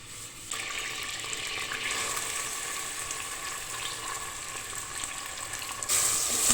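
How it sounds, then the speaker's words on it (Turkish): Onions sautéing in a pan while being stirred, making a strong, steady sizzle that jumps in level early on and swells again near the end, close and uninterrupted. "Soğanı karıştırıyoruz. Şimdi soğan kavrulurken"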